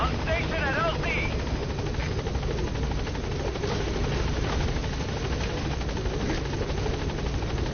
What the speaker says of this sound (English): This is Pequod. Arriving shortly at LZ.